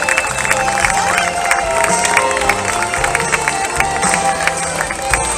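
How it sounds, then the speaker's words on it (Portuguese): At an outdoor evening serenade during the municipal festival in Arcos de Valdevez, a large crowd applauds and cheers, loud and continuous, with shouting voices and music playing underneath. "Uma salva de palmas, por favor."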